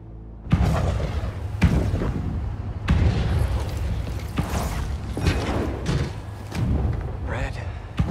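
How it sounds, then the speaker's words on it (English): Booming firework bursts go off repeatedly in the Spider-Man 2 video game on PS5, several deep thuds arriving at irregular intervals, with game voices talking between and over them. "Red fireworks? Interesting. A little early for fireworks."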